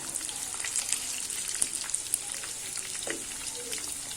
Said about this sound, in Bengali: এটাকে ভালোভাবে সময় নিয়ে অল্প ভেজে নিব